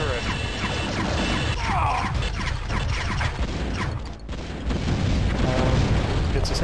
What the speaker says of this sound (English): It's essentially just a rapid-fire plasma turret.